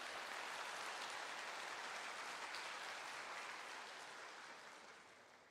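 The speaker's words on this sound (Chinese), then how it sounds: "我提议把掌声送给他们" An audience applauds at the Huajing S SUV launch event, a dense sustained wash of clapping that holds steady, then begins to fade toward the end.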